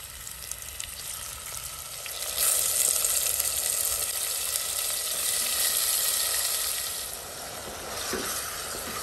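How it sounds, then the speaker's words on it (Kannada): Prawns frying in a pan in coconut oil, a soft continuous sizzle that swells after a couple of seconds and stays steady with a faint stir near the end, close and fairly quiet, no talking. "ಚೆನ್ನಾಗಿ ಇದನ್ನ ಫ್ರೈ ಮಾಡ್ಕೊಳ್ಳಿ. ಇದರ ನೀರೆಲ್ಲ ಬಿಟ್ಕೊಂಡು ಬರಬೇಕು."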